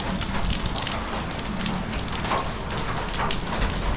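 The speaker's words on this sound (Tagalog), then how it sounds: "Medyo naulan pa rin." Steady rain pours down outdoors at Taal Basilica, a dense, even hiss of drops striking the ground and nearby surfaces that continues without a break.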